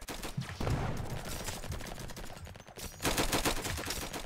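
Minigun fire in Roblox Flag Wars, rapid bursts of automatic shots in quick succession, loud and close, with a brief lull in the middle before another heavy burst.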